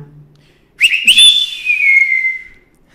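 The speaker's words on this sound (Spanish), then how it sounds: "te voy a hacer un silbido" A person whistles a short, bright tune of a few notes, ending on a long sustained tone that tapers off.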